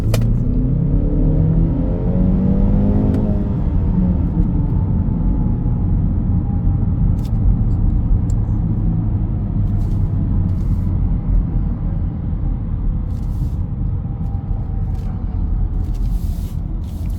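From inside a moving 2023 BMW X1 on the road, a passing car sweeps by at the start over a steady, loud roar of road and tire noise that continues throughout.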